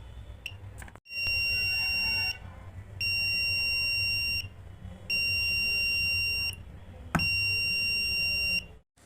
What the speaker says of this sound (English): the sensor detects it and the buzzer rings